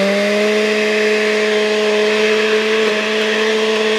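An electric mixer beats mango cake batter in a home kitchen, a steady, fairly loud motor whine that holds one pitch throughout with only a slight wobble near the end.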